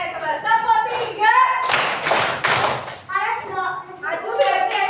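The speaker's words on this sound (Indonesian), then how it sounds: "coba tepuk tiga" Children in a classroom clap their hands together in a short burst of about three claps, set between stretches of an adult's speech.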